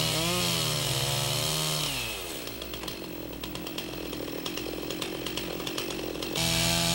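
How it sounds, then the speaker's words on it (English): A chainsaw plunge-cuts into a log to form a window opening in a log cabin wall, the engine revving up, bogging down under load through the cut, then roaring free again at the end, loud and close. "This will allow you to watch the tip of the saw as you plunge cut through."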